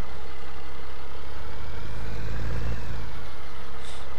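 An old tractor in a farming video game drones loudly and continuously with a low heavy engine tone while stuck, swelling briefly in a rev midway.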